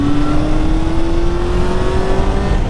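A Honda motorcycle engine, a Hornet 600 or CB650F, revs hard and steadily climbs in pitch as it is held high in the rev range, loud, close and continuous, with no talking.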